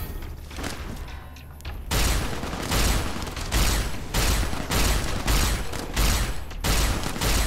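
Gunfire in the game Fallout New Vegas: after a quieter opening stretch, a series of loud, close bursts of shots repeats at a fairly even rhythm with short gaps, with no talking.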